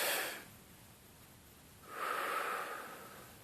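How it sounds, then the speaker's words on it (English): A person draws a deep breath in during a tapping session, a soft breathy intake that swells for about a second and a half after a brief exhale, close and quiet with no talking. "Hold your wrist, deep breath all the way in."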